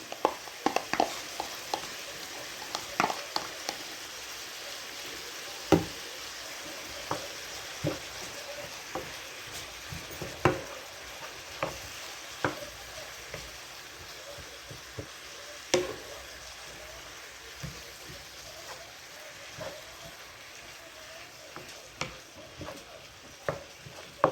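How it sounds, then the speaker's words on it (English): About two cups of finely diced onion frying in a pan for Lebanese kibbeh, a steady soft sizzle broken by scattered scrapes and taps as the pieces are stirred, low and even throughout, with no talking. "I'm going to dump in all of those onions that I had"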